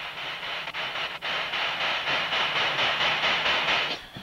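An LGB garden-scale model train rolls slowly along its track, slowed by added resistance, giving a steady close hiss and whir with faint rhythmic clicks from the wheels and no voices.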